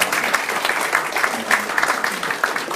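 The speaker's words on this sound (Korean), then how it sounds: "교수님을 위해서 박수 한번 더 크게 한번 해주세요" Applause from a Korean startup networking forum audience, given for a professor after the host's request: a steady, dense clatter of many hands filling the room for a few seconds, fairly loud and even with slight swells.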